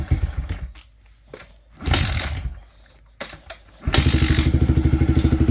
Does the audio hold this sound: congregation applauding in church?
no